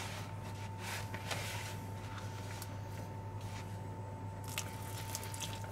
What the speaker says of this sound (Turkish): İyice yoğuruyoruz.